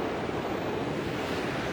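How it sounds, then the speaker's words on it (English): Ocean surf rolling in against the rocks at Bow Fiddle Rock, a steady broadband wash of breaking waves with some wind buffeting the microphone, no voices. "I'm just waiting for these waves"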